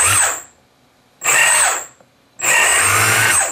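Motor of a giant hexacopter spinning up in three short bursts during a rotation direction test, a loud whirring whine that rises quickly and then winds down, with brief silent pauses between runs.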